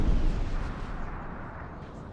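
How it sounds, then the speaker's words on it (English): Artillery guns firing in a Napoleonic-era battle of the video game Napoleon Total War, set at the 1808 Battle of Lapua: a dense, continuous low rumble of distant cannon booms blending together, strongest at the start. "I can hear the guns again. Firing away."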